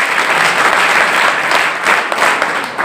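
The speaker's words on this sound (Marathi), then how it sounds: "एकदा जोरदार टाळ्या होऊ द्या" A school audience at a farewell ceremony for SSC and HSC students in Khanapur breaks into loud, sustained applause, with dense clapping from many hands held at steady strength for the whole stretch.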